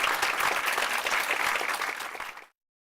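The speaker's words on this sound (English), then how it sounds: "Let's give her a round of applause." Dense, steady audience applause fills a hall after a Library of Congress lecture, loud and sustained before cutting off abruptly.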